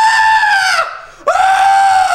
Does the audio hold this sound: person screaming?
yes